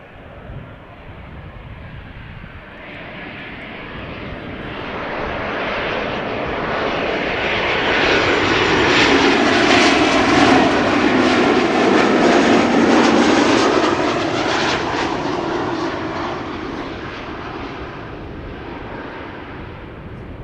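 KLM flight 758 arriving at Schiphol Airport, a loud airliner roar that swells steadily to a peak near the middle and slowly fades, broad and rumbling with no voices over it.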